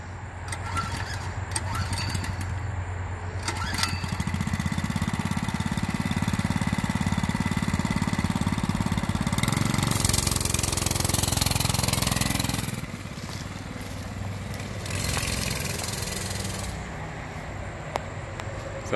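A Mega Moto 105cc mini bike engine catches and runs, a steady buzzing, mid-pitched drone throughout that swells with throttle around the middle before settling back, heard close by.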